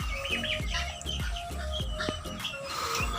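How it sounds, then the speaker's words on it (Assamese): Young turkey chicks mixed with guinea fowl chicks chirp and peep in a pen, overlapping high calls close by with a few louder cheeps and soft clucks, no talk. "এইবোৰ টাৰ্কি পোৱালি আছে আৰু গিনি ফলৰ পোৱালি লগতে মিক্স হৈ আছে।"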